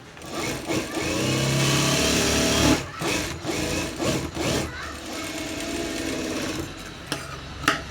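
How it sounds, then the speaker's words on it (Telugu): A sewing machine stitches thread piping onto a blouse in a steady whirring run that stops, then starts again in a second stretch of stitching, with a few light clicks and a little quiet talk. "మనము వన్ సైడ్ ఇలా డోరీ పెట్టేసి మనము దీన్ని ఇలా స్టిచ్చింగ్ అనేది చేసేసుకోవాలా చూడండి ఇప్పుడు"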